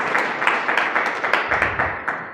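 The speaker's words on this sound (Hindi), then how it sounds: "इस सिस्टम के लिए एक बार जोरदार तालियां" An audience at a community team gathering breaks into steady applause, dense overlapping claps with a loosely rhythmic pulse, sustained and fairly loud.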